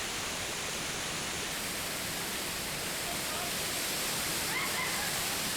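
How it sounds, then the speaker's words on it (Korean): Rainy-season waterfall plunging 24 metres in Fiji, a loud, dense, constant roar of falling water that drowns out all other sound. "24m 높이에서 떨어지는 물소리가 하도 우렁차서 주위의 모든 소리를 잠재운다."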